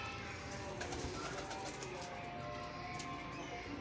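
Soft coos from a Teddy and Rampuri cross pigeon sit under a steady background hum, with a few faint chirps and a brief flutter, no talking.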